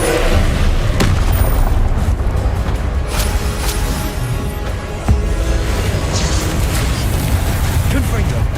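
Confringo blast curses explode during Hogwarts Legacy combat, producing a loud, continuous rumbling roar of booms with a sharp burst standing out near the end.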